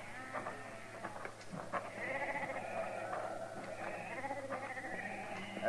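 A flock of sheep bleats continuously outdoors, many overlapping voices rising and falling at close to middle distance, steady and fairly soft.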